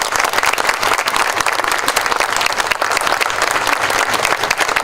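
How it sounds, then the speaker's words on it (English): An audience at a literacy garden dedication applauds loudly and steadily, dense clapping that fills the whole stretch, with a faint murmur of the crowd underneath. "How about a round of applause for my friend,"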